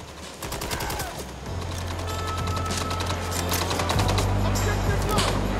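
Gunfire in the video game Mindseye crackles in rapid bursts over a running engine drone, with speech mixed into the game sound.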